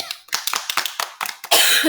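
A small group claps in quick, uneven bursts that end in a louder, denser patter of applause.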